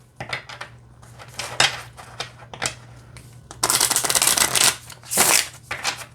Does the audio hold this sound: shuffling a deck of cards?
yes